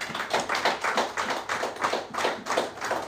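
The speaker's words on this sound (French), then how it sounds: "Applaudissez Jésus." A church congregation claps together in a steady, even rhythm, roughly three beats per second, a full room of hands sounding close and lively.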